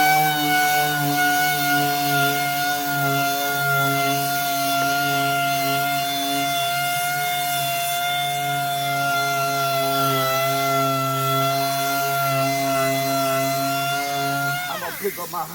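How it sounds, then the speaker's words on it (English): High-speed buffer polishing car headlights after sanding, a loud steady motor whine with a strong tonal hum running continuously before it winds down at the end. "I'm gonna pick up my high-speed buffer."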